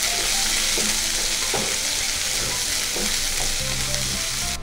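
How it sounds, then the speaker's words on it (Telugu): Chopped onion fries in oil after mustard and cumin seeds have popped, for okra pulusu; a dense, loud, continuous sizzle fills the pan, with a few stirring knocks and scrapes up close and no voices. "ఈ ఉల్లిపాయలను 1 నిమిషం వేగనిద్దాము."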